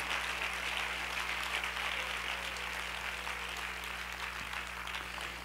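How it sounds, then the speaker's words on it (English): Steady, dense applause from a church congregation, loud and continuous throughout with a low constant hum underneath. "Clap your hands for a moment and let the Lord just move on you."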